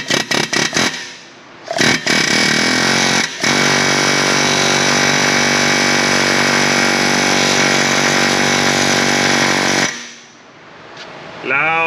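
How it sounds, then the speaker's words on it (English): A pneumatic impact wrench works a nut on a 1994–2004 Ford Mustang GT 4.6 on a shop lift, opening with a few short bursts and then a long, loud, continuous hammering rattle for about eight seconds before stopping. "Pneumatic impacts coming in."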